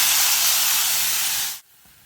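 Cooked mushrooms tipped into a pan of onions set off a loud, steady hiss of sizzling that runs close and unbroken for about a second and a half, then cuts off sharply and leaves near silence.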